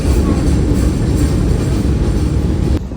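Buenos Aires metro train riding along, a loud steady low rumble and rattle of the carriage that holds throughout and then drops away sharply near the end.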